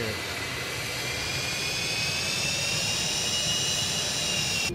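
Continuous jet engine roar from an MD80 in a flight simulator, a steady even whine and rush with a high tone drifting slowly over it, loud and unbroken.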